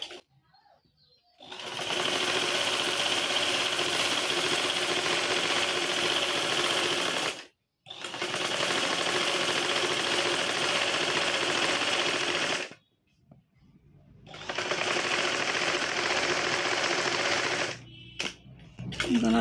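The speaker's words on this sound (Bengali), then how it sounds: "এখন আমি পিছনের গলাটা এইভাবে সেলাই করে নিব।" A sewing machine stitches the back neckline of a round baby frock in three long, loud runs of rapid mechanical whirring, separated by short silent pauses, with a brief stop-start at the end.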